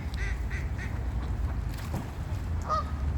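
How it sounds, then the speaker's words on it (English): Egyptian geese perched high in a tree give repeated nasal honks, a short run of three calls then scattered ones, heard at a moderate distance over steady outdoor background noise. "The Egyptian geese are determined to stay up there for the time being."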